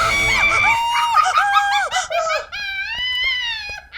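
A woman screams late at night alone in a quiet house: a loud, close, sustained high-pitched shriek lasting about four seconds, its pitch swooping up and down through several wavering bursts, with no talking.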